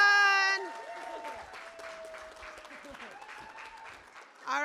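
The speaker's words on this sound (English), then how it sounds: "Clap as loud as you can." Participants at an Arvin/Lamont CSC community meeting clap together. The clapping is fairly faint and scattered and sits under a voice speaking over it, with louder speech at the start and end.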